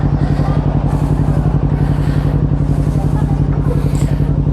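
A motorcycle engine on a night ride toward Tagaytay runs loud and close with a steady throbbing idle-to-cruise drone, and a voice talks over it.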